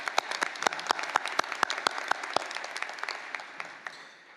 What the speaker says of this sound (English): So let's give him another round of applause for his wonderful work.